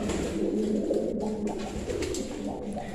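Racing pigeons cooing continuously in a low, throaty murmur, several birds layered together close by, steady throughout with no talking.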